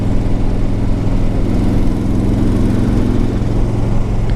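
A 2004 Harley Davidson Ultra Classic motorcycle engine running steadily, with a deep, loud, close rumble and a continuous even throb throughout, no voices over it.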